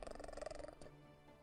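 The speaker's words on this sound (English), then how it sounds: "my cat's in my lap right now, and he's meowing and purring" A pet cat purring close to the microphone, a soft rhythmic rumble pulsing quickly for under a second before fading into quiet.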